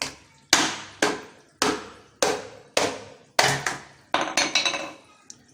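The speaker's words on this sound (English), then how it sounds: "we smack the top of the coconut with the hammer" A hammer smacks the top of a whole coconut again and again to crack it open: about nine sharp, hard knocks, roughly one every half second, then a quicker cluster of taps as the shell gives, close and loud with no talking.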